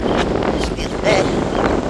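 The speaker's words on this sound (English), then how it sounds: "It's very windy." Strong wind on a beach buffets the microphone in a steady, loud roar of rumbling gusts throughout.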